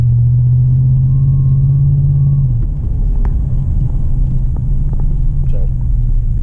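A 2020 Chevy 2500 pickup with the 6.6 gas engine and MBRP exhaust in regular driving gives a loud, steady low rumble. A droning tone drops away after a couple of seconds, and the rumble continues underneath.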